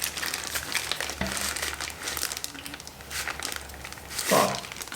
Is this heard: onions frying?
no